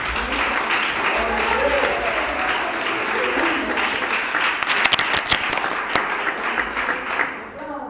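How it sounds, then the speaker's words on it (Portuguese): Congregation clapping during a church service, dense steady applause with some nearby sharper claps mid-way, tapering off at the close, with faint voices underneath. "Palmas para Jesus."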